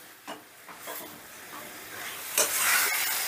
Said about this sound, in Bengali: এবারে এই মশলাটাকেও আমি প্রায় 4-5 মিনিটের মতো কষে নেব।